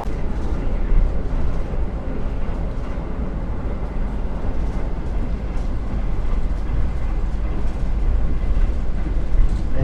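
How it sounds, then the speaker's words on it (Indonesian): Argo Semeru executive express train speeding up toward near top speed, heard from inside the carriage as a steady, dense rumble of wheels on rails with a deep low-end drone throughout. "kereta Argo Semeru mulai memacu kecepatannya hingga hampir batas maksimumnya"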